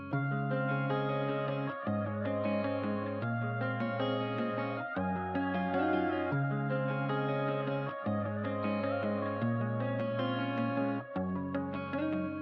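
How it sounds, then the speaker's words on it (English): Four electric guitars play together in a full mix with effects, forming a dense, sustained wall of chords that shifts every couple of seconds with a few brief breaks, steady and loud with no voices. "so all together, the 4 guitars sound like this"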